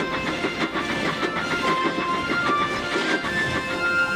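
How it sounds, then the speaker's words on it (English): A train rolls past with a steady rhythmic clatter and rumble, fairly loud and continuous, with no voices. "watched as the little tank engine huffed past him"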